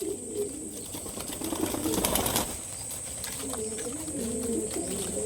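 Pigeons flock to scattered paddy, their low coos and brief wing flaps rising and falling under a steady high hiss, with a busier patch of pecking and fluttering near the middle.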